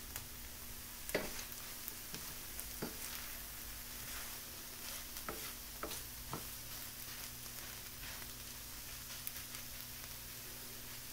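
Onions sizzle and fry in a pan over a little past medium heat, with a steady crackling hiss and a few sharp pops and stirring taps, close and unaccompanied.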